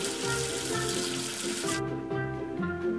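Running water from a tap rinses soap off a toy number 5, a steady splashing hiss that cuts off abruptly partway through, leaving quieter dripping over soft background music.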